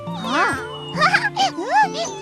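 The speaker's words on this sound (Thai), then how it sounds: "ว่าไงเจ้าแมวเหมียว" A cartoon cat in a Thai animated series gives several sliding meows in quick succession, loud and close, with a speaking voice underneath.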